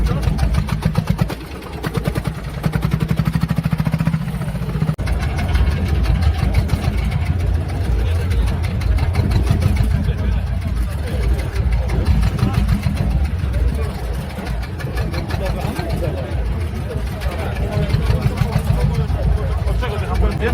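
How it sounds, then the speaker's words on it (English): A 1919 Fairbanks Morse two-cylinder stationary engine of 15 horsepower runs continuously with a dense, rhythmic low-pitched chugging and mechanical clatter, steady throughout, with a voice talking over it. "A 1919 Fairbanks Morse two-cylinder engine is a classic"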